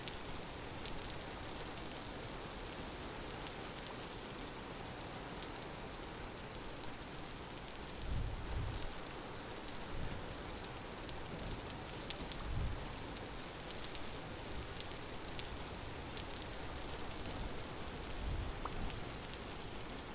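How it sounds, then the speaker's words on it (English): Steady rain pours down in the survival game Vintage Story, a dense continuous hiss with occasional heavier drops and low thumps, heard alone without talk throughout. "it's raining. It's always raining here."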